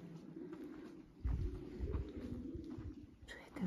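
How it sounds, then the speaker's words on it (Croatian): Pigeons or turtle doves coo softly inside a cave, low and somewhat faint, with a quiet hollow background and a slight rustle near the end. "Čujete li golubove?"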